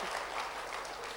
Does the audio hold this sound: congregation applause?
yes